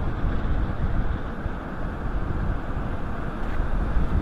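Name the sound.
strong wind at sea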